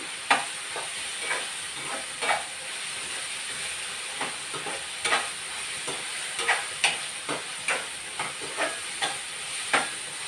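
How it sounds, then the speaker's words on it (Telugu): Onions fry in a pan on the stove, with a constant hiss and a steady run of light scraping clicks from stirring. The sound is moderately quiet and there is no talking. "ఇది వేగిపోయిందండి, ఉల్లిపాయ వేగిపోయింది."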